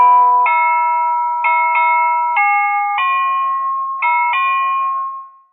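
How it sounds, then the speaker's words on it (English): A programmable doorbell plays a clear multi-note electronic chime tune close by, the notes changing pitch in a short melody before the sound fades out at the end. "Is that a new doorbell? Well, it's one of those programmable ones."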